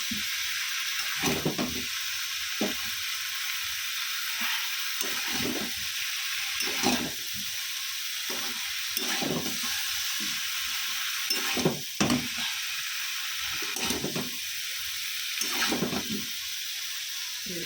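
Rice frying with ginger, garlic, onion and cumin in a pan, a soft steady sizzle cut by a regular series of loud scraping stirs, repeating about once a second or two, with no talking.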